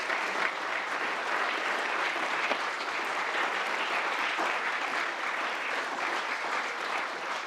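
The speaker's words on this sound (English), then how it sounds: "a serious round of applause, Ben and the team, for all that you've done" Sustained audience applause at a London leaders summit evening event, a dense, even wash of many hands clapping that holds steady throughout with no talking over it.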